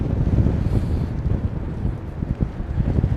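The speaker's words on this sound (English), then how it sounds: "That's definitely picked up, mate, that wind." Strong gusts from Storm Darragh at London Heathrow Airport buffet the microphone in a loud, continuous low roar that rises and falls without a break.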